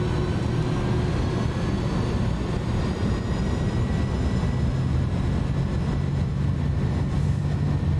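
Airbus A310 engines spooling up to takeoff thrust in a flight simulator: a loud, steady broadband roar with a low rumble and faint high tones, continuous and without talk.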